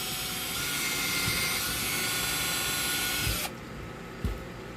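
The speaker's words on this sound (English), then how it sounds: "I need to drill this hole out a little bit more too" A power drill whirs steadily at close range for several seconds, boring a hole in wood, then cuts off abruptly, leaving a faint background hum and a small clunk.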